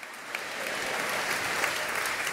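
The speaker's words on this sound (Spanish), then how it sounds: "Si usted lo cree, dele mejor ese aplauso al Señor." A church congregation breaks into applause that swells and holds as a dense, steady wash of many clapping hands, fairly loud and without speech.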